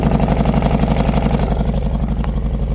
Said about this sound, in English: I love the way this Bassani sounds.